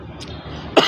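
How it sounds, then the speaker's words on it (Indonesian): A single short cough bursts out near the end after a brief quiet stretch, close and fairly loud. "maaf batuk"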